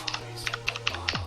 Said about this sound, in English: Who's typing away?